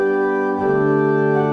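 Pipe organ principal chorus with 8-foot, 4-foot and 2-foot stops drawn together, a full, bright sustained chord that shifts once partway through, loud and unbroken, with no talking.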